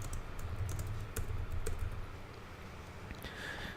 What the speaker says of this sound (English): So I could type something up here like free shipping on all orders.